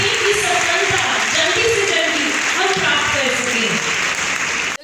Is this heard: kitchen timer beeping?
no